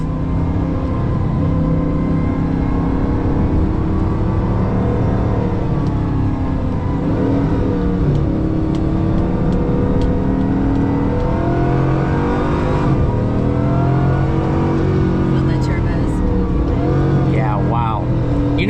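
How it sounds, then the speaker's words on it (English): A Singer DLS sports car takes off nearby, its engine revving up in rising sweeps, then pulling away with a whirring drone as the pitch climbs and falls through gear changes, with people talking over it. "my friend in his Singer DLS taking off"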